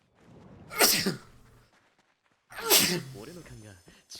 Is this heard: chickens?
no